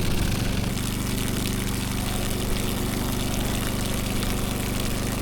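Water runs from a tap in a steady, continuous rush, left on for a couple of minutes until it runs clear. A low mechanical hum sits under the flow, and no one speaks.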